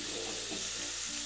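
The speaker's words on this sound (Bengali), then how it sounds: "এই যে চিকেনগুলো বোনলেস চিকেন একবারে জাস্ট একটু ভাজা করে নেব" Boneless chicken fries in a pan with a steady, even hiss of sizzling oil, close and continuous for a brief moment with no talking.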